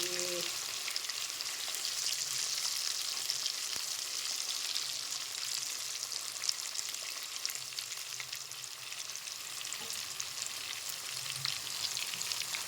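Pond fish frying in hot oil in a pan, a steady soft sizzle and crackle that runs throughout, with occasional faint clinks and stirring.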